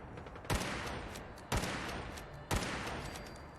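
Three heavy, booming shotgun blasts from an exploding shotgun aimed at super mutants in Fallout 4, spaced about a second apart, each a sharp loud crack with a rumbling tail over steady game ambience.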